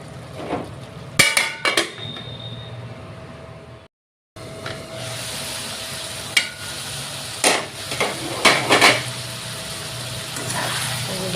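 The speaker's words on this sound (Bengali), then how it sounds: "আর অল্প টমেটো দিয়ে ভালো করে কষিয়ে নিব।" Fish head and tomato stir-fried in a pan, with a continuous sizzle broken by sharp clanks and scrapes of a spatula against the pan, a brief silent gap partway through, no talking.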